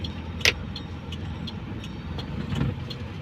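A car driven by a learner driver hums steadily from inside the cabin, with a couple of faint clicks and a brief sharp tick.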